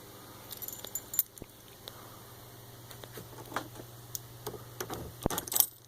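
A metal flange washer and bolt are handled while being fitted to a pulley for a DIY kayak hoist. Sharp metallic clinks and jingles come close up at irregular intervals over a low steady hum, and no one speaks.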